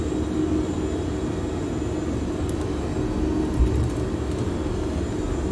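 Embraer Phenom 100 business jet cruising at about 370 knots in a flight simulator game, a steady low cabin engine roar and rumble that stays constant throughout with a faint click near the middle, and no voices.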